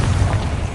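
A deep, rumbling boom from the Confringo blasting spell in Hogwarts Legacy fills the moment, loud and sustained with a heavy low-end roar.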